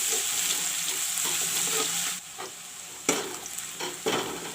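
Crushed garlic frying with browned onions in a pan, giving a loud, steady sizzle close by, interrupted by a few sharp scraping stirs that briefly dip and then lift the hiss; no one speaks.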